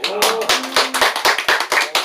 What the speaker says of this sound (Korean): 그 정도 선에서 박수